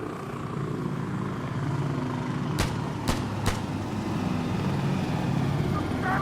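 Helicopter approaching in the game Insurgency Sandstorm, a steady low rotor and engine drone under broadband battle noise, with a few sharp gunshot-like cracks cutting through midway.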